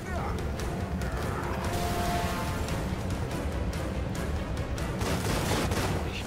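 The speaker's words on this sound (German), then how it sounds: "Maschinengewehr." Dense, continuous automatic gunfire from a machine gun in The Evil Within on PS4, set on a highway, loud and sustained throughout with explosive crashes and game noise mixed in.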